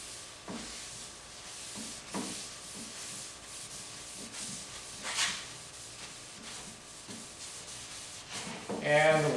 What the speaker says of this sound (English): And then we're going to rub down all over the boards.